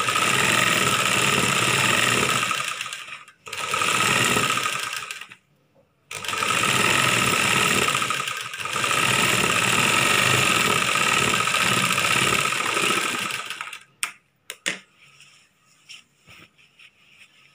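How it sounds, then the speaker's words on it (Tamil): A sewing machine runs in long steady bursts while stitching the lining of a churidar top, with a loud mechanical whir broken by short pauses before fading into quieter handling at the end. "ரெண்டு பக்கமும் நம்ம தையல் போடணும்."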